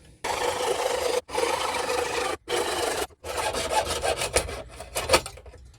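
Hand saw with a candle-wax-lubricated blade cutting metal spinner rings, steady close rasping strokes broken by short pauses, then quicker, choppier strokes near the end.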